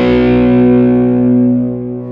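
A loud sustained electric guitar chord rings out through a Mesa Fillmore 50 open-back single 12-inch amp, heavy and distorted, slowly decaying with a trailing delay echo and a little reverb.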